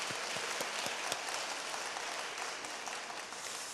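A church congregation at Seoul Hongseong Church applauds Korean War veterans, a dense and even wash of clapping that sounds like steady rain and carries on without speech.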